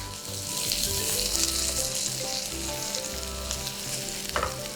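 Kung Pao tiger prawns sizzling hard in a hot pan as sauce goes in, a continuous loud frying hiss with faint stirring scrapes and a brief clink near the end, no talking.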